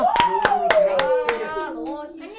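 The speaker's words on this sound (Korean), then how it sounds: "지우 박수 한번 주자." A few hands clap in sharp separate strokes at a youth church service, about six claps under a voice that calls out and slides down in pitch.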